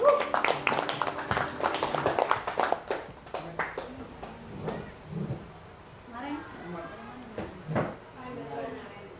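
Teachers clap their hands at a school workshop session, a scattered burst of close claps with voices talking over it that thins out into chatter and occasional knocks.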